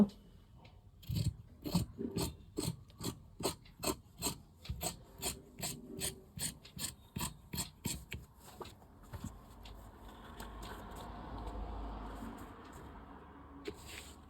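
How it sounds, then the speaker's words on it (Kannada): Scissors cut through blouse fabric for half sleeves, a quick run of rhythmic crisp snips that gives way to a softer steady rustle and rubbing of cloth, close and quiet. "ಮೊದಲನೇಗೆ ಹಾಫ್ ಸ್ಲೀವ್ಸ್ ಕಟ್ ಮಾಡ್ಕೊಳ್ಬೇಕು"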